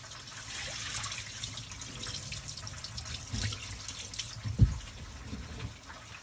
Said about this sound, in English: Gotta wash your rice. Make sure your rice is clean.